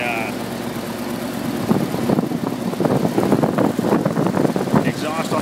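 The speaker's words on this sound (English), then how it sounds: "Flathead 8 running away there. Runs really good. Sounds good." A 1949 Ford flathead V8 runs steadily with a leaky exhaust, a low even idle close by, while someone talks over it for most of the time.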